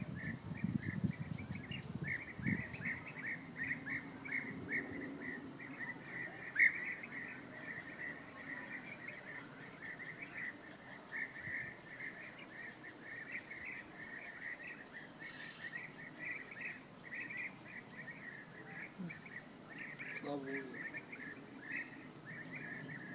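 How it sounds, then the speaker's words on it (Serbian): Birds calling along a Danube riverbank, a steady chirping chorus close to the listener at a fairly low level over a soft outdoor background, with a low rumble near the start. "ove ptice se čuju ko na Havajima"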